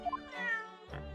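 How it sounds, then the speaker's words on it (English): A cat in The Great Ace Attorney Chronicles video game lets out a clear, close meow, a single drawn-out cry followed by a short second call over a quiet game backdrop. "There's a kitty."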